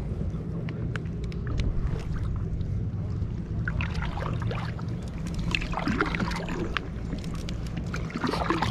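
A kayak paddles along calm river water near a yacht club, soft splashes and drips of the paddle repeating at close range over faint wind and a low background hum.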